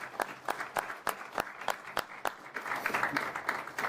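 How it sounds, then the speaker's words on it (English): Applause at a high school press conference welcoming a new head football coach: a small group claps, with distinct individual hand claps at first, then thickening into a denser patter, moderately quiet in a room. "Let's give him a round of applause and welcome him"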